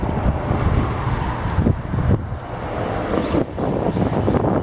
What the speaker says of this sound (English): It's a windy day here in Charlottesville today.